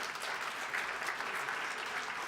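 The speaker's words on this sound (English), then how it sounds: "Yes, you can clap for that" Steady audience applause at a national legislative awards gala, a dense, even wash of many hands clapping that holds without a break throughout.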